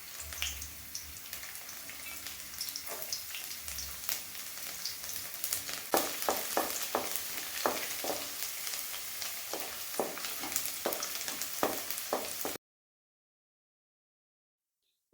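Finely chopped ginger and garlic frying in a pan, giving a soft, steady crackling sizzle, joined midway by a string of quick spatula taps and scrapes, close and moderately quiet, ending abruptly into silence.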